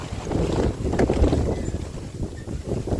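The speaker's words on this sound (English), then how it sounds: "it's windy out here today." Gusty wind buffets the microphone outdoors, a rough low rumble rising and falling for a few seconds with no one speaking.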